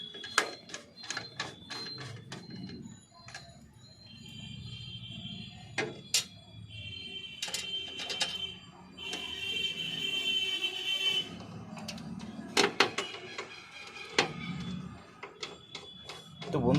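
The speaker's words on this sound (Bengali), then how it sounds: "আমি একের পর এক স্ক্রুগুলোকে এর মধ্যে টাইট করে নেব।" Screws being tightened to fix a computer motherboard in place during a home PC build: scattered sharp clicks and ticking metallic scrapes, quiet and close, at an irregular rhythm.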